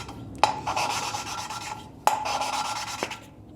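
Ford 460 big-block engine valve hand-lapped into its seat, close gritty rubbing strokes broken by a couple of sharp taps where it is lifted and dropped back down, no talking.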